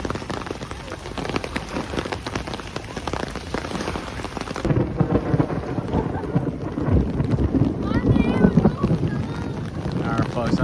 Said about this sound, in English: I get a little thunder out here now, folks.